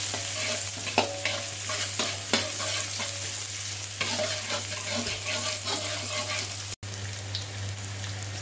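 Spice paste being stir-fried in a pan for green beans, a steady close sizzle of frying with repeated scraping and stirring strokes, plus a low constant hum underneath and a brief dropout near the end.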